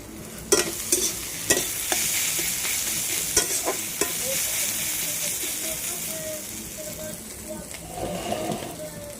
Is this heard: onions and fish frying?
yes